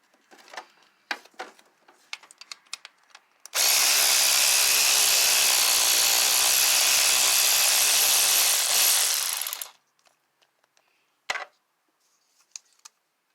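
A loud, steady burst of power-tool noise runs for about six seconds while parts come off a Cadillac, Buick or Chevy engine with a P0017 fault to reach the oil control valves. Faint scattered clicks and clatter come before and after it.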